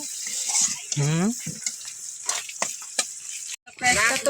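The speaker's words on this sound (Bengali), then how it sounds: "আবার চুলে কড়াই দিয়ে পেঁয়াজ কাঁচামরিচ দিয়ে দিচ্ছি মাছ ভুনা করার জন্য" Onions and green chillies frying in a wok on the stove for a spiced fish dish, with a steady close sizzle broken by brief stirring scrapes and a voice speaking over it.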